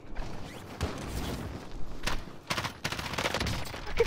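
Bursts of gunfire in the Warzone video game, a few sharp shots and rapid automatic volleys of moderate loudness, mixed with mechanical clatter and other game sounds.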